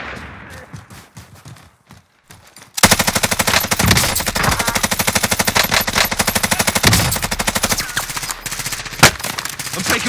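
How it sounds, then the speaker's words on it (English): Loud, sustained machine gun fire in a video game bursts in after a short quieter stretch of scattered shots and rumble, continuing as rapid, dense automatic bursts to the end. "I'm taking fire!"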